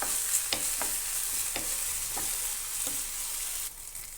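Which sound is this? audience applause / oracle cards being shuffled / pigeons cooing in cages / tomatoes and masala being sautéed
tomatoes and masala being sautéed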